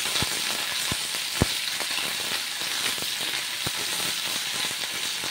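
Steady crackling sizzle of curry leaves and chana dal in hot tempering oil for South Indian curd rice, with scattered sharp pops over a continuous loud hiss.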